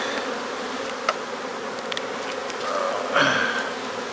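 Masses of honey bees swarm over an opened hive full of supers, making a thick, close, continuous buzzing hum with a few small knocks and a swelling drone toward the end.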